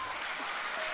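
A studio audience applauds at the season two final of a Georgian TV show: brisk, dense clapping fills the short moment at an even, fairly loud level.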